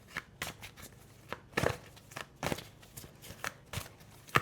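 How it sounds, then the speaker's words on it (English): Tarot cards shuffled by hand in a steady series of soft riffling slaps and rustles, close and moderately loud with no talking. "Just want to keep shuffling here until you tune in here."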